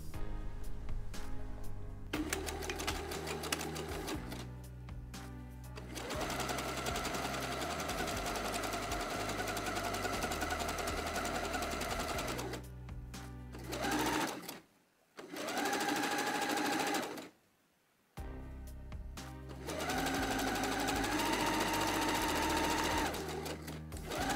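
A sewing machine stitches the side seam of a T-shirt from sleeve to hem in long steady runs, the motor humming loudly and close, stopping briefly twice before resuming.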